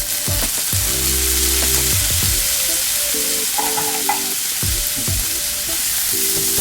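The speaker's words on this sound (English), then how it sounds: "So I've strained the jalapenos and now I'm tossing them in." Strained jalapenos tossed into a pan of cooking beef, sizzling loudly and steadily with repeated scraping stir strokes from a utensil, close up.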